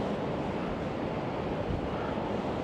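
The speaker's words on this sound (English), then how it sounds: "The wind's getting stronger." Strong wind and crashing waves at high tide on the Blackpool promenade during Storm Darragh, a constant loud roar with buffeting wind against the microphone throughout.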